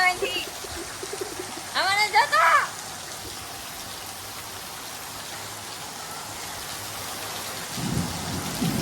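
Constant rainfall hisses throughout, a brief voice speaks early on, and a low roll of thunder rumbles in near the end.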